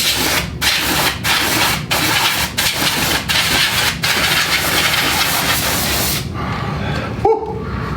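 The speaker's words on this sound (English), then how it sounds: "But I should open up the bellows. Yeah. And blow them out." Air is blown through opened accordion bellows to clear out dust, a loud, steady rushing noise broken by regular brief dips before it cuts off near the end.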